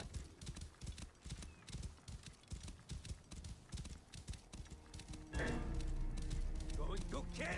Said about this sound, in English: I have a horse now.